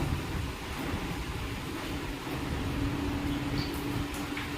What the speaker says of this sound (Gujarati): પોરબંદરમાં અટાણે ફૂલ પવન નીકળ્યો છે.